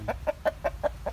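Six evenly spaced clucks from a 2.6 kg ô chạng gamecock, close and moderately loud, with no talking over them.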